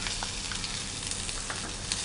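Onions frying in hot oil for a snake gourd curry, giving a steady, close, moderately loud sizzle with small crackles and pops throughout.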